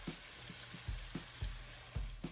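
Canned Rotel tomatoes, undrained, and beef broth simmer in a skillet for cheeseburger gnocchi, giving a soft steady sizzle with faint bubbling pops at close range.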